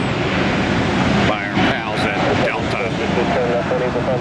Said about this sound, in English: The A321neo, the new machine with the new first class cabin